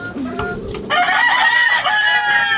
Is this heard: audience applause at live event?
no